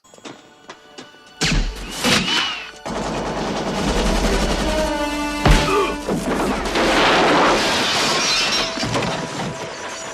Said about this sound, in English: they're trying to escape Oromov and his various Russian guard goons and they're shooting at them